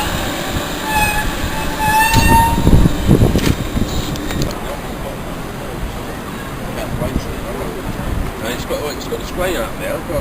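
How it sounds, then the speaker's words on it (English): A train passes through Stratford station with a loud rolling rumble and squealing wheels. An announcement voice sounds over the platform noise before the sound eases into a steadier hum. "This train is formed of 8 coaches."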